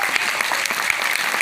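An audience claps at a motivational talk, a short burst of dense, even applause heard alone.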